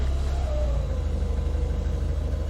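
A car engine started with a manual choke idles in gear at about 800 RPM, giving a steady low rumble with an even pulsing throb, close and continuous.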